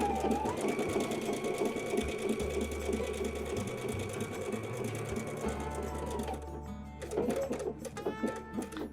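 A sewing machine runs steadily, stitching the edge of appliqué fabric on a flower pillow, with a brief pause partway through before it stops near the end. The hum is close and continuous.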